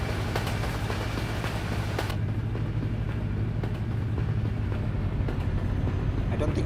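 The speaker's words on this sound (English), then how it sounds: "I don't think I can talk with it's very loud, that train." A loud train rumbles past in Euro Truck Simulator 2, a steady, close, heavy rolling roar that fills the whole stretch, with brief crackles near the start and faint speech beneath it.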